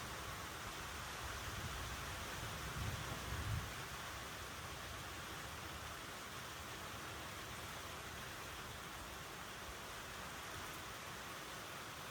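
Heavy rain pours down on a farm, a dense, steady hiss that stays even and unbroken throughout, with no voices.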